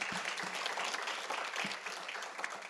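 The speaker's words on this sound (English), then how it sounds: "Please give him a round of applause." Audience applause at a Tiger Bay education forum in Manatee County, a steady dense wash of clapping from a seated crowd that holds at an even level for a few seconds with no talk over it.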